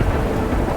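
Rainstorm with thunder: a dense, loud wash of rain with deep rumbling underneath, continuous across a very short stretch with no voices.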